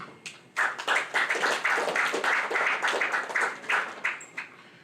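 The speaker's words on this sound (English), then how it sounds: "deserves a round of applause" Applause from an audience at a real estate book launch dinner swells after a brief pause into dense, steady clapping, fairly loud and close, then thins toward the end with no voices.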